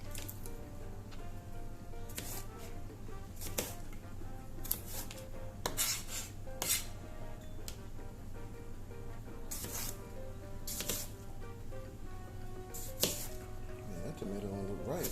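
A knife roughly chops vegetables for birria tacos in a home kitchen, a few sharp irregular knocks on a board over a steady background hum.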